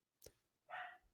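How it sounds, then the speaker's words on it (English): A dog gives a single faint bark in the distance after a soft click, brief and alone in a quiet room. "That was a dog. I'm sure you heard it."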